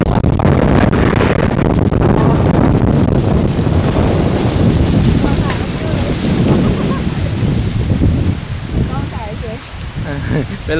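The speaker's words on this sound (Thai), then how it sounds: "เป็นลมมุนเนาะเป็นตะยาน" A strong whirlwind gusts straight into the microphone outdoors during a digging contest, a loud, continuous buffeting roar that barely lets up for the whole stretch, with faint voices underneath.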